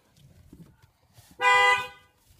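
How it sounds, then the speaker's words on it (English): A single car horn blast sounds from a vehicle nearby, loud and sustained for about a second, rising abruptly out of quiet cabin noise and fading off. "He just honked the horn, scared everybody."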